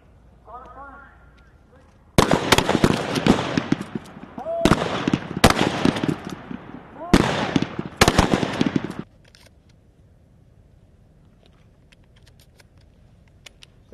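Rifle gunfire on an outdoor firing range, a loud, dense string of rapid cracking shots in several bursts over about seven seconds, with quieter talk before and after.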